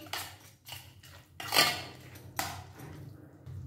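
Puffed rice being stirred together with beaten curd and sugar in a bowl, a utensil scraping and clinking against the dish in a few distinct strokes, close and fairly quiet, with no talking.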